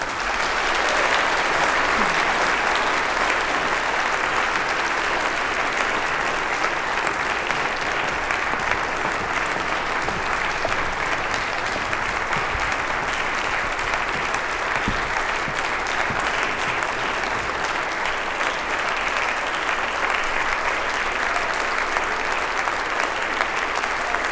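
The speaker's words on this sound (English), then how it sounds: "Let's give them a big applause." Sustained, dense applause from a large indoor crowd at the Solar Boat Twente team's boat reveal, steady and loud throughout without breaks.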